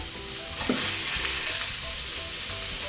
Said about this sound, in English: just give it a little bit final stir